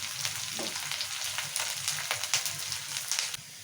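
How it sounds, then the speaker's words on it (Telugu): Green chillies and reddened onions fry in hot oil in a pan, a steady close sizzle with scattered spatter crackles and light scraping, continuous throughout before easing slightly at the end. "పచ్చిమిరపకాయలు కూడా మంచిగా వేయించుకున్నాము."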